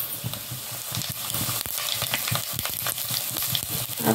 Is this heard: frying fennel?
yes